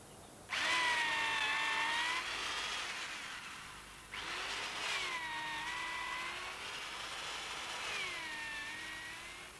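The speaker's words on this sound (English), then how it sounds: "Bill Slee drills out oak logs culled from some disused woodland." A power drill bores holes into oak logs from disused woodland, three sustained whining runs that rise and dip in pitch as the bit bites, loud and close with short pauses between.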